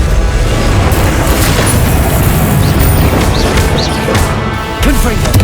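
Spell impacts and explosions in Hogwarts Legacy, a dense, loud barrage of booms, crashes and magical bursts running continuously, with a voice shouting spell names over the clamour.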